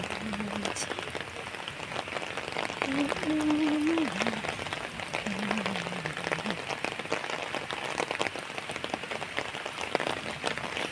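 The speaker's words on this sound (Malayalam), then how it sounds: "നല്ല മഴ" Heavy rain falls in a dense, constant patter on surfaces outdoors, with faint voice-like tones briefly heard beneath it.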